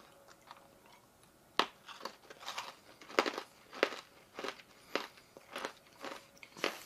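Crunchy freeze-dried Starburst candy being bitten and chewed close up, a steady series of sharp crisp crunches in an irregular rhythm with no talking.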